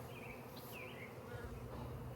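Honeybees buzz around a hive frame during a nuc installation, a dense, continuous drone with a few individual bees whining past nearby over steady background hum.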